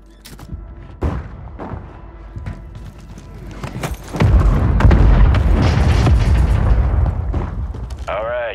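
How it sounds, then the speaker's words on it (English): Friendly mortar strike in the video game Call of Duty Warzone: scattered thuds and clatter build into a heavy, sustained rumble of booming explosions, loud and continuous near the end. "Friendly mortar strike on the way."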